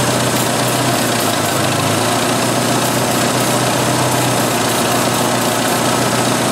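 A 1986 Jeep XJ's 2.5L engine with a vacuum leak idles loudly and steadily up close, a constant rough mechanical drone with a faint slowing.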